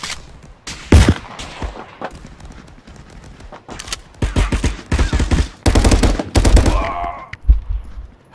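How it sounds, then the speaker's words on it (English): Shotgun fire in the VR shooter Contractors comes as loud, sharp blasts in irregular bursts, some in quick succession, with other gunfire mixed in and gaps of quieter moments between. "Fucking shotgun."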